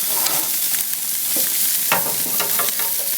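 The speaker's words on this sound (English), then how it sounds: "So what I'm doing now is I'm taking this spatula and I'm making sure that they don't stick." Chicken wings sizzle steadily on a BBQ grill while a spatula scrapes underneath them, nudging them loose with a few sharp scraping knocks over a constant close hiss.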